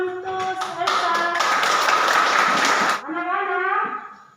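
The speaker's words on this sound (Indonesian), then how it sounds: "tepuk tangan untuk Elsa" A classroom of children claps hands in a quick burst lasting a second or two, framed by young voices chanting or singing together before and after, loud and close.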